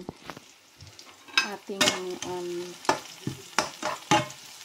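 Onion and garlic sautéing in a pan for chicken soup, with a soft sizzle beneath sharp stirring clatters and a few clustered utensil strikes, near and fairly loud, a brief voice fragment early on.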